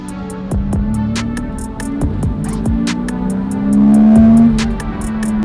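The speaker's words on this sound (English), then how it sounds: "It's still a Porsche and it sounds amazing." A Porsche Boxster S 986 flat-six runs steadily, its engine note rising and falling through a swell near the end, with sharp intermittent clicks and ticks over the top and no talking.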